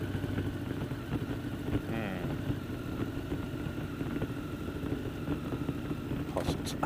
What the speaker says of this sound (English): let's fire these bikes up and go for a rip, Denny.